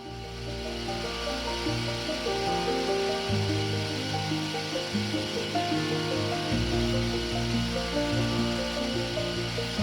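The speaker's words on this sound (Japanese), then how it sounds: "今度はドリルを折らないよう慎重に開けていきます。" Small drill boring a hole in a metal part for a live steam model locomotive, a steady close whirring hum that dips briefly midway then resumes, with no talk.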